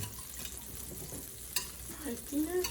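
Organic eggs poured into a hot frying pan give a close, soft sizzle and stirring scrape, with brief clinks and a faint voice murmuring underneath.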